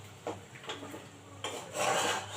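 A spoon stirs and scrapes spice masala in a pan over low heat for a village-style chicken curry: soft, close rubbing and scraping strokes in short bursts, quiet, with no talking.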